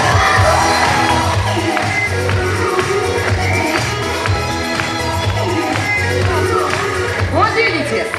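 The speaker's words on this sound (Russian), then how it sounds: "Аплодисменты были, что надо." An audience applauds and cheers at a dolphin show at the Bolshoy Utrish dolphinarium, a broad crowd roar under voices talking, with music and splashy show noise around it.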